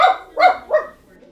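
A dog barks three times in quick succession, loud and close, with a softer trailing sound after the last bark.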